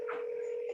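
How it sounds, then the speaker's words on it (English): A telephone rings during a village board of trustees meeting, heard as a brief, steady electronic tone that holds level for under a second before fading, with faint room noise around it. "your phone's ringing"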